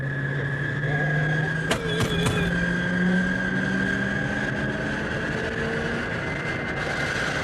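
An old American car engine runs with a steady, rough drone and a constant whine, joined by a few brief clanks near the start.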